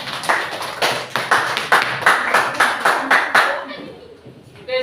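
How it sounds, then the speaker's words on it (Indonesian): A classroom group claps for a presentation team, a quick run of close, sharp claps in a steady rhythm that tapers off, with a brief voice at the end. "Tepuk tangan untuk kelompok 2."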